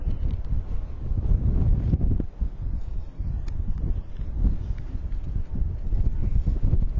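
Strong wind buffets the microphone at an outdoor high school baseball game on a late evening, a constant low rumbling roar with gusty surges throughout.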